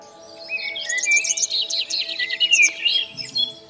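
Forest birds chirp and sing in a dense, lively stream of quick trills and tweets, close and fairly loud, with a faint low hum underneath.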